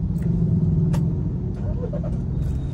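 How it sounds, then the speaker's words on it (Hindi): A Mahindra Thar's warmed-up engine gives a steady low rumble close by, holding an even idle throughout with a few faint clicks above it and no clear start-up burst. "गाड़ी कर लेता हूँ स्टार्ट।"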